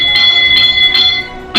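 A ship's bell sounds the signal for a vessel aground, with three or four distinct metallic strokes ringing out loud and clear at even intervals.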